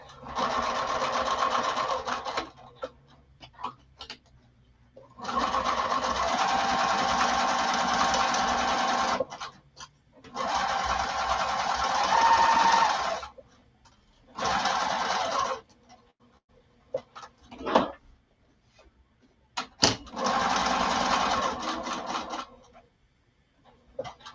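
A sewing machine stitches the bottom of a bag exterior in several loud, close bursts of steady whirring, separated by short silent pauses and a few brief clicks, with no one talking.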